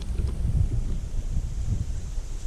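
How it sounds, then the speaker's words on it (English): Steady wind buffets the microphone at a riverside feeder-fishing camp with a small tent, a continuous low rumble that swells and eases without letup, with no voices. "So it's now windy."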